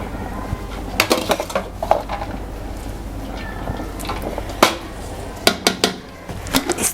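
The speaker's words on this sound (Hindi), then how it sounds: "अब इन्हें अच्छी तरह मिक्स करना है।" A spoon scrapes and clinks against a cooking pot while vegetable rice is stirred, with irregular light metallic taps and scrapes over a low steady background hum.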